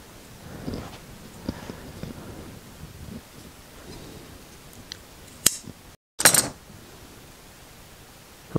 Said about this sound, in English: undo the stitches and cut away some of the cord